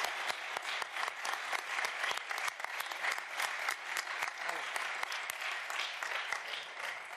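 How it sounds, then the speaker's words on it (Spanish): Sustained audience applause fills a parliamentary conference hall after a panel of speakers, dense steady clapping from a large crowd with no voices over it. "Pues merecido aplauso para nuestros magníficos ponentes"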